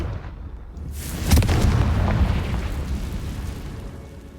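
A Confringo fire spell in Hogwarts Legacy goes off in a single heavy explosion, close and loud, then leaves a long rumbling roar that slowly fades over a few seconds.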